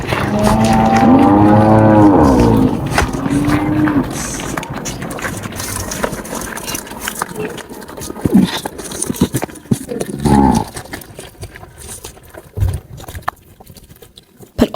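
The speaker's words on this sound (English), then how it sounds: "Now I guess all of the cows are waking up because they're walking past and they've just started mooing uncontrollably." Cattle moo loudly and repeatedly as a herd walks past in rural Niger, the calls close at first and then scattered and fainter, with hoof steps and some background activity.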